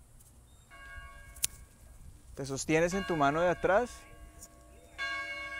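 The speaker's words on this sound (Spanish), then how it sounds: "escuchas y contemplas el sonido de la campana que no estaba planeado" A bell rings outdoors during a yoga practice, with resonant tolls that linger and decay as long tones, while someone speaks calmly over the sound.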